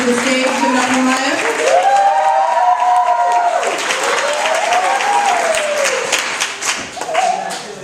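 A round of applause from the audience at a high school talent showcase, loud sustained clapping and crowd noise with a voice rising over it and some tonal sound above the crowd.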